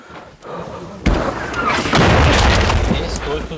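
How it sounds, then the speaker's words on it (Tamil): A bomb explosion near trenches hits as a sudden loud, close blast, then a heavy, sustained roaring rumble that keeps building. "குண்டு வெடிப்புகள் தொடர்ந்து கொண்டே உள்ளன."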